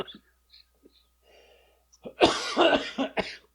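After a few faint sounds, a loud fit of several harsh coughs from a person with a lingering COVID cough bursts out close by in quick succession.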